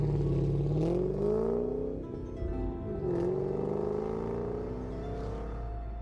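A car arrives with engine whirring and shifting pitch as it revs up and eases off several times, fairly close and steady, with no voices over it.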